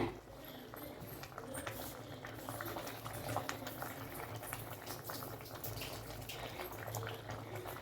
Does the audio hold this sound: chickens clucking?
no